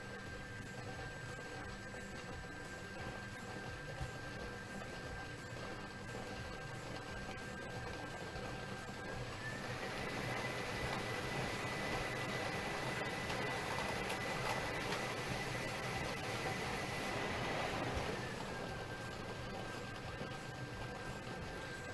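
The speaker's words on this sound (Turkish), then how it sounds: "ilk makinemiz 5 şanslı numarayı belirlemek üzere topları karıştırmaya başladı" A Şans Topu lottery drawing machine churns its balls in a steady, unbroken mechanical whir and rattle. It grows slightly louder midway, then settles back, with no voices.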